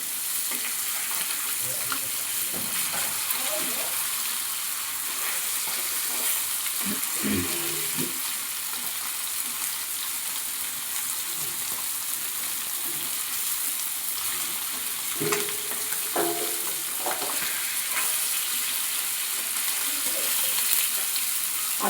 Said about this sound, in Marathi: आता दुसऱ्या साईडने भाजायचं आहे आपल्याला ते.